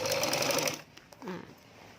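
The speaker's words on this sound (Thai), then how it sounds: "เย็บตรงนี้ก็ให้ย้ำนิดนึงนะคะ ย้ำตรง ปกเนาะตรงที่แยกปกตรงนี้นะคะ" Sewing machine stitching the collar of a tailored garment, running in a fast, steady, loud burst that stops sharply, then a brief quieter stretch with a short voice sound.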